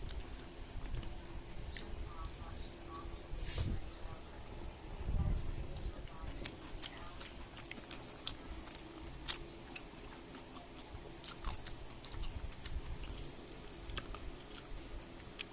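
Kimchi is chewed close to the microphone in soft, irregular crunches and wet bites, fairly faint, with small ticks and clicks scattered across the stretch.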